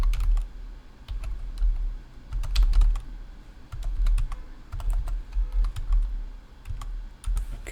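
Rapid clicking of computer keyboard keys as a command is typed in bursts, close and fairly loud, with no talking.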